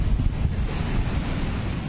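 Strong wind buffets and roars across a hot, windy African beach on the Lagos coast, with surf washing underneath in a dense, continuous rumble and no voices.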